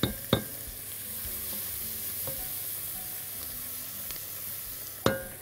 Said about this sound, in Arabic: لسه مستمريه في التقليب لحد بس ما البصل يطرى شويه